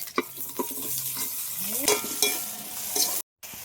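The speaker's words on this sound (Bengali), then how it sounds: "এই যে পেঁয়াজগুলো ঢেলে দেবো" Sliced onions fry in white oil in a kadai to make birista for chicken roast, with a steady sizzle broken by clattering spatula strokes against the pan and a brief gap near the end.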